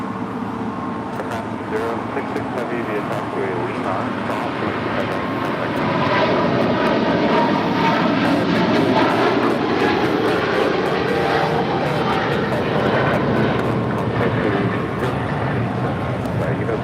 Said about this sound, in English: That is Eva Air Flight 5 Heavy taking off to Taipei on a 777-300 ER.